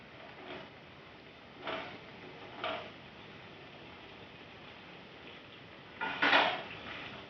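Fried chicken for spicy Chicken 65 goes into a pan and is stirred, giving a few soft metallic clinks and scrapes spaced apart over a steady low background hiss.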